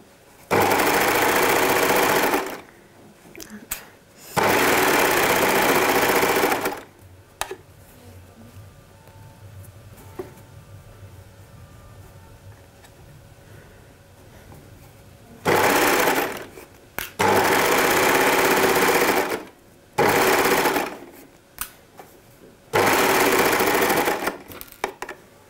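Sewing machine stitching elastic onto the edge of a swimsuit, running in four loud, rapid bursts of a few seconds each, separated by quiet pauses with faint handling noises.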